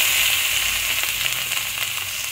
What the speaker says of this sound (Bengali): দিয়ে একটুখানি ভাজা ভাজা করে নিতে হবে পেঁয়াজটাকে, যাতে পেঁয়াজের কাঁচা গন্ধটা চলে যায়।